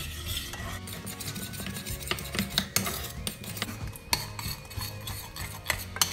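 A spoon stirs a zucchini and cod mixture in a pan over low heat, with repeated scraping strokes and sharp clinks against the metal over a soft background sizzle.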